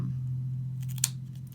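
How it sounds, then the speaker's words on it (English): Martha Stewart craft scissors snip paper in a few quick, close cuts, with one sharp crisp snip standing out over a low steady hum. "These are Martha Stewart scissors, and just a matter of"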